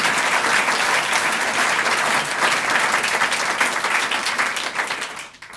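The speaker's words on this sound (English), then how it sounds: "So a round of applause for John." A lecture hall audience gives dense, sustained applause after a Chancellor's lecture on dinosaurs, the clapping loud and even throughout before tapering off at the end.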